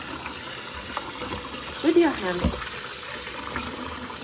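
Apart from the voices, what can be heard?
cold tap water running while peeling beets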